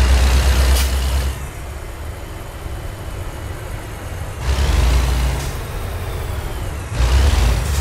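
Truck in American Truck Simulator, a deep rumbling diesel engine with loud hissing air brake releases at the start, middle and end, the engine drone continuing steadily between them.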